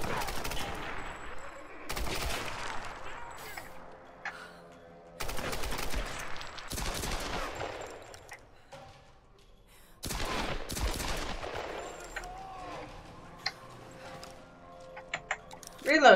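Bursts of gunfire in the video game Tomb Raider, several loud volleys separated by short lulls, with some quieter rattling between them and no talk over the shots.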